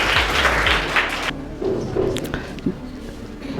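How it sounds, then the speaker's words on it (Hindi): School quiz competition audience briefly applauds a student's correct answer, with a short burst of loud clapping that cuts off quickly, followed by scattered thumps and footsteps in the room. "इनके लिए जोरदार तालियां।"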